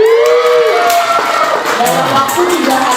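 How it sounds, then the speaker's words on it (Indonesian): A crowd cheers, whoops and shouts in a loud, continuous roar with clapping mixed in, voices rising and falling close by throughout. "Kasih tepuk tangan."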